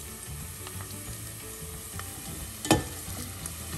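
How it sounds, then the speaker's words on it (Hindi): Carrots frying in oil in a pan for Kabuli pulao give a steady, faint sizzle and crackle, broken once by a brief louder clatter of stirring, with no speech. "जो हमारी कैरेट है ना, ये भी फ्राई हो गई है"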